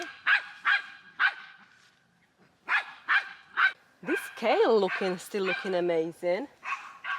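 Several sharp barks from dogs repeat at a steady pace, fairly close, in a homestead garden. A person then talks while the barking continues behind the voice.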